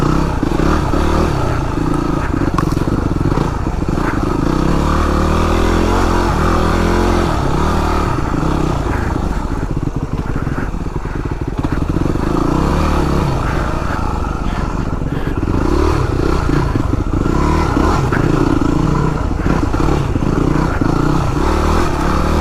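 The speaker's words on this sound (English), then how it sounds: "WR250R, just hauling ass through the woods, tight trails, not groomed." A Yamaha WR250R dirt bike rides hard through tight, ungroomed woodland trails. The engine drones loud and close the whole time, revs rising and falling, with clattering and scraping over rough ground.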